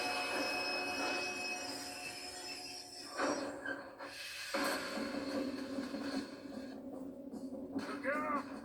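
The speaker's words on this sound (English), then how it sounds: "We have to stop this train." A moving train in Red Dead Redemption 2 rumbles and hisses steadily, with metallic wheel squeal and clanks rising over the run, while characters shout and talk over it.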